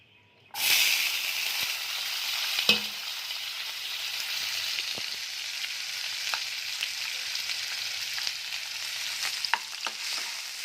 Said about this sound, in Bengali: এবার আমি এতে পেঁয়াজ কুচি দিয়ে দেব।